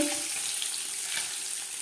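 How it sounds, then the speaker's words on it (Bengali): Fish fries in hot oil in a pan, a close, even crackling sizzle that runs without a break through the short moment, with no voices. "মাছ ভাজা হয়ে গেছে"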